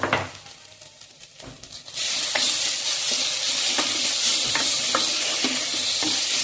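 Ginger garlic paste fries with onions, turmeric and salt, going quiet at first before a loud, continuous sizzle bursts up and holds, with regular scraping stirs and light ladle taps close by and no talking.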